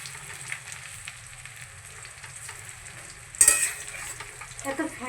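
Chicken pakoras fry in oil with a soft, steady bubbling sizzle, then a sharper clatter of utensils near the end, quiet and without talk.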